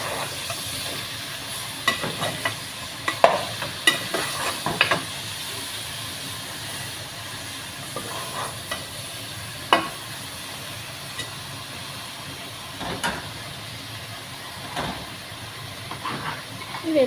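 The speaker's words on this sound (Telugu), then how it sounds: "ఇది కూడా బాగా కలుపుకుని వద్దాము." Chopped tomatoes for sambar are stirred in a hot pan, giving a continuous steamy hiss and sizzle with occasional scraping strokes of a spoon, close and fairly quiet.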